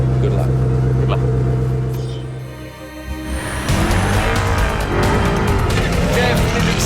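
A Volvo truck and a Koenigsegg car launching side by side off the line in a race, with a steady loud engine roar that dips briefly, then swells into a harsher, rising acceleration with tire noise, heard under talk.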